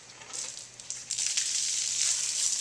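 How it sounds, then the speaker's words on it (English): Garden hose switched on to rinse a Harley bike, a short hissing spray that starts faint and swells into a steady close rush of water. "So we turn the hose on, just give it a good rinse."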